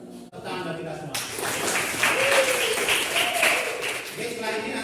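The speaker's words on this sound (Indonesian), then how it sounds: "Tepuk bagi kita semua." Classroom applause in a guidance lesson on learning motivation, a steady wash of clapping from a group of students that swells and holds for several seconds after a brief spoken cue.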